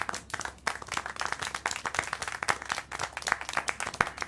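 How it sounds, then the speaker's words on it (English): Rapid, uneven hand clapping from a small group in the video game Syberia: The World Before, sharp claps close and steady over a few seconds with a faint low hum beneath. "How can you clap?"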